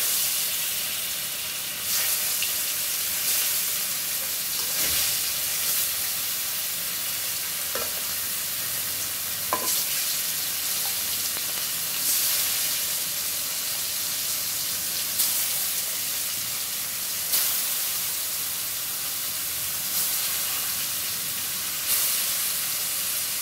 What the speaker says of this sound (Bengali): রান্না করব শিং মাছ ভাজবো